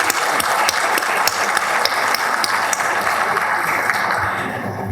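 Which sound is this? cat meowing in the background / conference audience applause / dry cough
conference audience applause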